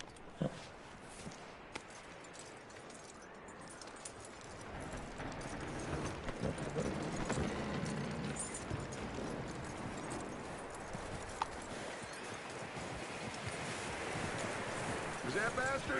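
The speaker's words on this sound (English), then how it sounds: "That looks like a decent horse." Horse hooves clip-clop steadily in a video game while wind noise blows across the scene, with the pace quickening and growing louder partway through.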